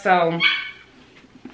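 A dog gives two quick close barks, the first strong and the second a higher yip, followed by a quiet pause and faint shuffling; a voice speaks briefly at the start.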